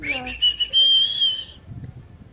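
A baby holds one wavering, high whistle-like note for over a second, loud and close, before it fades into quiet room noise and faint rustling.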